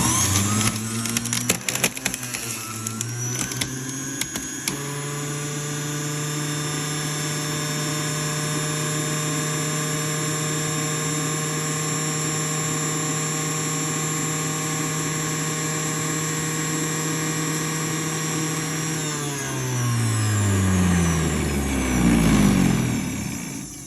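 A Silvercrest juicer extractor on setting 2 processes ginger root with a loud, steady motor whine and layered humming tones after a rough start. Near the end the motor winds down with a falling pitch and a brief grinding rumble.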